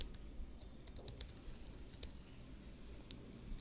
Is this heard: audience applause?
no